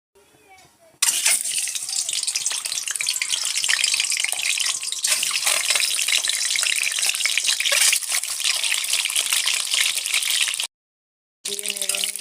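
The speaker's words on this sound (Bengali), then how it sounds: "তেল দেব, তেল গরম হলে ডিমগুলো দিয়ে দেব।" Eggs sizzling in hot oil in a pan, a steady loud crackling hiss that runs almost unbroken for several seconds, cutting out briefly near the end.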